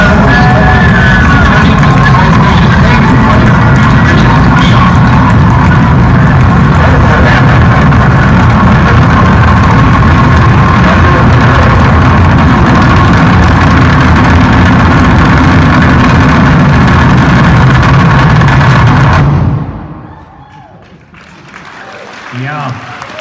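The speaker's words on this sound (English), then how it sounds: "boost ignition, and liftoff of the" Rocket engines roar through boost ignition and liftoff, a loud, sustained low rumble mixed with crowd noise and cheering that cuts off abruptly near the end, leaving quiet room sound.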